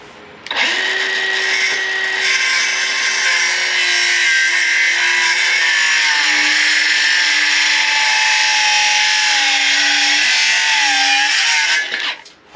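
A cordless Milwaukee M12 saw, running on a 6 amp-hour battery with a slightly dull blade, cuts through a wooden post in one long continuous whine, loud and close, its pitch dipping as it bites before stopping abruptly.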